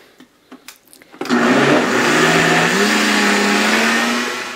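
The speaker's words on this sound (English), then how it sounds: "I'm going to continue blending" A blender runs on vegan butter, starting up after a few soft clicks and bumps. Its motor then holds a loud steady whir that tapers off slightly at the end.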